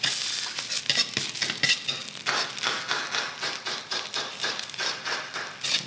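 Egg foo young, a cakey Chinese omelette, frying in a pan over medium-high heat, giving a steady loud sizzle with a dense crackle and repeated sharp scrapes and taps of a utensil stirring through it, with no talking.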